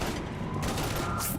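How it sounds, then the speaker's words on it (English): Heavy gunfire in the Mass Effect 3 Legendary Edition video game makes a dense, continuous burst of shots and mechanical clatter during combat. "we're taking heavy fire"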